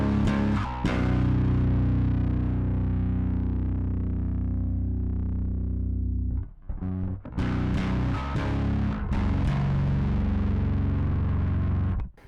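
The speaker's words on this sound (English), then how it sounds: "let's just mess around for a little bit with the mix and the distortion and see what it gives us" An electric bass played through a Lusithand Ground and Pound MKII distortion pedal gives thick, gritty sustained notes and chords, loud and close, with short pauses and fresh attacks near the end.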